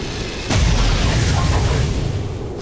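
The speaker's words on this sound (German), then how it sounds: "erwiderten Schuss" A single deep booming return shot hits suddenly and then rumbles on, a heavy gunfire blast in the video game XCOM 2 over continuous background noise.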